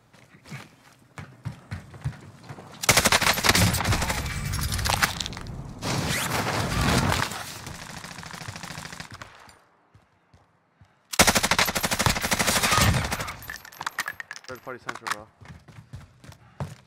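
Bursts of automatic gunfire from a video game firefight, loud sustained volleys of several seconds each separated by gaps, with quieter footsteps and movement sounds between them.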